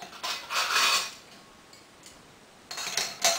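Metal pot clamps for a homemade hobo stove are packed into the kit, giving two short bursts of light metallic clinking and rattling separated by a quiet pause.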